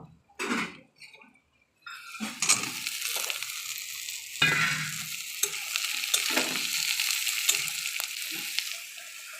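Ridge gourd pieces going into hot oil with fried onions in a wok: a brief clatter, then a loud, sustained close sizzle with spatula scrapes and stirring knocks throughout.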